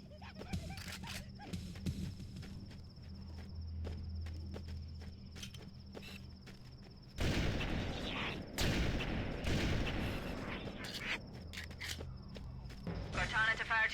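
Gunfire bursts out in Halo: Combat Evolved during an outdoor firefight, with scattered sharp shots early on and then a loud, dense volley of repeated blasts in the middle, mixed with footsteps, a chirping insect ambience and spoken lines.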